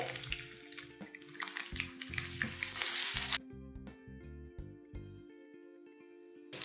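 Coarsely crushed garlic sizzles and fries in hot oil with curry leaves in a pan for pav batata, a steady loud crackle that drops off sharply partway, leaving a quieter simmer and occasional clinks.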